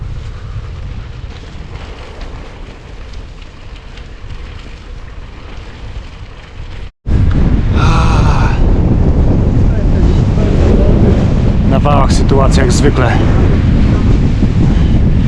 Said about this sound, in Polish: Milion kilometrów na godzinę wiatru, wiatr boczne.